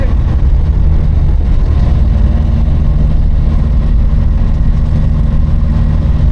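The engine of a Triumph Herald Estate runs steadily and loudly close by, a continuous low rumble with slight pinking under acceleration.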